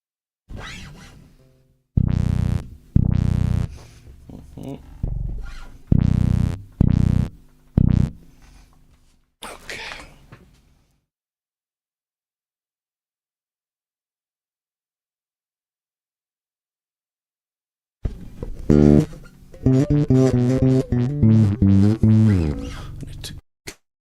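Low, buzzy bursts from a Behringer PP-1 Eurorack synthesizer pulse in short blasts like flatulence, fall silent for several seconds, then return as a busier warbling synth passage.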